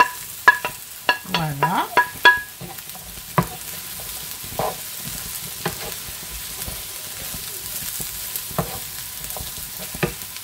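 Sliced aubergines hit a pan of frying onions, giving a few sharp clattering stirs at first, then a low, even sizzle that carries on steadily, with one brief spoken word near the start.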